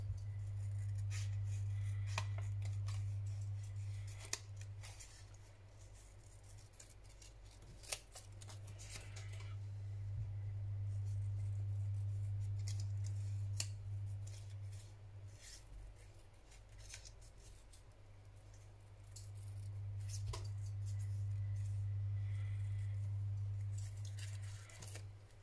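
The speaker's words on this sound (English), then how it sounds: "Snip the corner off there." Scissors snipping paper at a craft table, with scattered small cuts and rustles over a steady low hum across a long stretch, fairly faint and close.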